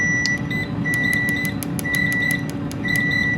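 Two kitchen timers, one on an air fryer cooking hot wings and one on an oven, beep in repeated short electronic bursts over a steady hum, with a sustained tone running beneath the pulses.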